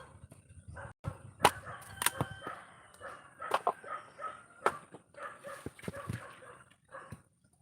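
Several dogs bark in irregular bursts, some sharp and close, others fainter, with brief pauses between the outbursts.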